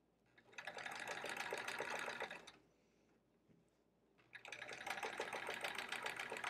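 A sewing machine stitches a chevron quilt in two sustained runs of rapid, even needle chatter, with a short quieter pause between them and no talking.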